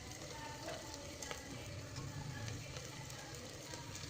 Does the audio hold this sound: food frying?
yes